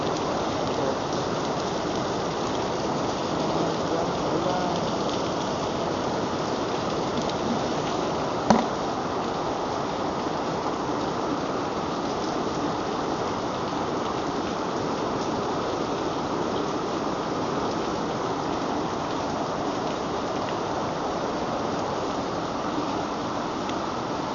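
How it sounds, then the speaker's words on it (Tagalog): Steady, dense typhoon rainfall pours down continuously, a broad hiss of heavy rain on surfaces with one brief sharp tap partway through. "Bilis ng ulan na."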